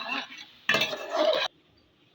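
Duck meat and chopped ridge gourd being sautéed in a pan: a short burst of scraping and stirring with faint sizzle and light clinks of utensil on metal, close by, then quieter frying.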